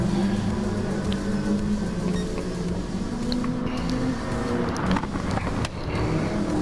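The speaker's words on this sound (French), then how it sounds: "Fred, beau dépassement avec l'RCZ là." A Peugeot RCZ racing car drones past in a video game race, a steady engine whine that rises in pitch and holds loud throughout, layered with other engine noise.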